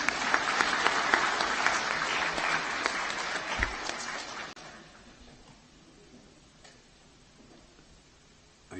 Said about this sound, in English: clapping for this decision